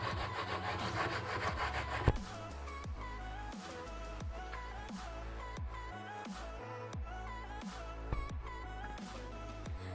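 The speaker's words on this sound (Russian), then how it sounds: "Морковь натираем на терке." Carrot grated on a metal grater for sturgeon fish soup, with rhythmic rasping strokes repeating steadily and close to the mic. A soft tonal background plays beneath the strokes.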